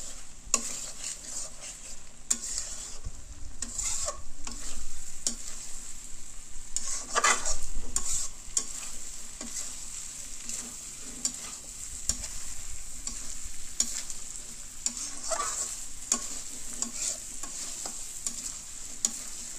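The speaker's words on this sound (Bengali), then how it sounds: "ঘন ঘন না নেড়ে দিলে পুড়ে যাবে, এই জন্য আমি কিছুক্ষণ পর পর নেড়ে দিচ্ছি।" Goat meat with pumpkin and potatoes frying in a pan gives a constant close sizzle, broken by repeated scraping and clattering strokes of a spatula stirring the pan at irregular intervals.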